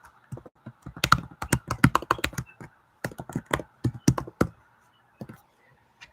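Computer keyboard being typed on while entering an email address, bursts of crisp close key clicks with short pauses between groups, fading to a few scattered taps, no speech.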